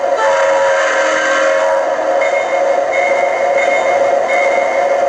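Sound effects from an early-2000s O-scale model train engine play as a steady, loud, continuous rail rumble with whistle-like horn tones on top. No voices.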